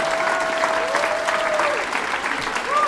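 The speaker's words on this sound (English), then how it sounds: "Give them all a big round of applause" Dense crowd applause fills a comedy club after the last student performers, loud and continuous, with a little whooping mixed into the clapping.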